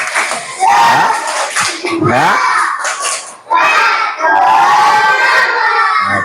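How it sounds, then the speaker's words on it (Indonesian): Schoolchildren in a classroom perform the tepuk semangat clapping chant, with loud rhythmic group claps mixed with shouted chanting voices. Short bursts of clapping are separated by brief pauses, and a teacher's voice is heard among them. "Coba tepuk semangat dulu."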